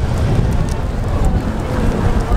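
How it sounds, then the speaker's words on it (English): Strong gusting wind in Tokyo buffets the microphone with a steady, loud low roar that fills the whole clip, with no speech over it. "now everything is so windy right now"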